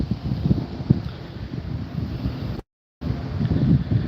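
Strong wind gusts, about 35 mph, buffeting an outdoor microphone near a fast-growing wildfire, a continuous loud rumbling roar with a brief dropout of silence partway through.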